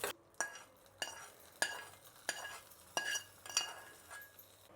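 Hot mustard-seed and curry-leaf tempering with asafoetida stirred into a thick chutney: a series of sharp spoon-against-bowl clinks and scrapes at roughly regular intervals, close and fairly quiet, with a faint sizzle between strokes.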